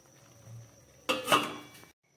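A metal lid set down on a pot of pumpkin vegetable curry, a single clattering clank with a short ringing rattle after it, heard close in a quiet kitchen.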